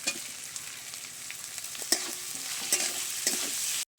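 Ginger, garlic, carrot and chopped tomato stir-frying in hot oil for homemade chowmein: a steady close sizzle with a spatula scraping and clinking against the pan several times, no voices.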